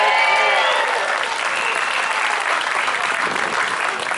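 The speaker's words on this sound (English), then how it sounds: "give them a big cheer" A rally crowd on Glasgow Green cheers and applauds, including bikers, with loud sustained clapping and whoops at the start that settle into steady, dense applause throughout.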